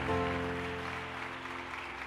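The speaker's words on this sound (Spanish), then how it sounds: "dele su mejor aplauso al verbo de vida" A church congregation applauds during a Sunday service, steady clapping from many hands beneath a lingering sustained organ or keyboard chord, moderately loud and even throughout.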